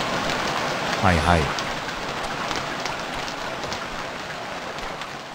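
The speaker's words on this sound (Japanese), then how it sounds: "分かってるんだ、大雨だな" Heavy rain in the survival game Stranded Deep, a dense steady downpour hissing throughout, with someone speaking briefly over it near the start.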